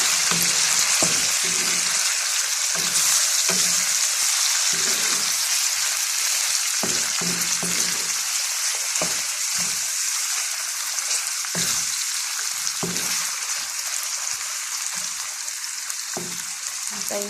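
Fresh chicken fries in a hot pan with a dense, steady sizzle and crackle, close and loud throughout, with occasional stirring scrapes and pops.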